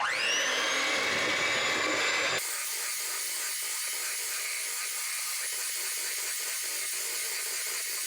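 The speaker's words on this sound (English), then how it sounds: "We'll add the warm chocolate butter mixture to the egg mixture and mix on low speed until combined." An electric hand mixer on low speed blends a warm chocolate-butter mixture into an egg mixture for cookie dough. Its loud motor whine rises as it spins up, then settles into a steady, close whirring hiss.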